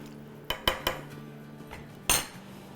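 A spoon clinks against a metal pot while chicken chili with soy sauce and vinegar is stirred: a few sharp, close clanks spaced irregularly, with a last louder knock and quiet between.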